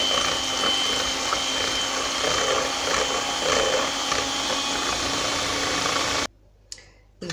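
An electric mixer whips egg whites for a coconut flan, a loud steady motor whir running close and unbroken for about six seconds before cutting off abruptly into near silence.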